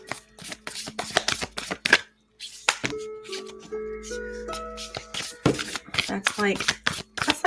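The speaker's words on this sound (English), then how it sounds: "these cards are so big, they're hard to shuffle." Large oversized cards being shuffled by hand in quick riffling bursts with pauses between, close and fairly loud, while a person talks over parts of it.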